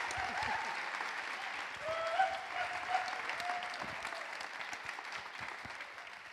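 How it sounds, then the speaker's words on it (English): Sustained round of applause from a county audience for Chair Jessica Vega-Peterson after her first State of the County address, a dense, even clatter of many hands that slowly tapers toward the end. "Let's give Chair Jessica Vega-Peterson one more round of applause for her first"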